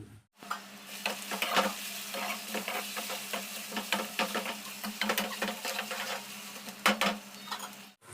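Ginger-onion paste frying in a pan, with a close, crackling sizzle broken by repeated scraping stirs and small clinks and a faint hum beneath, and no voices.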